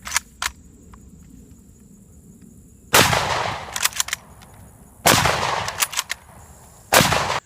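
Three loud, close rifle shots from a Mosin Nagant M91/59 fired in quick succession, each a sharp crack followed by a decaying outdoor echo, with faint bolt-action clicks between rounds.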